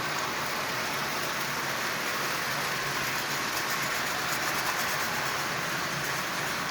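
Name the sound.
Marx 391 toy train locomotive pulling tin litho cars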